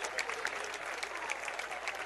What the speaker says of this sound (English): he gets a hand from everybody here at West Forsyth High School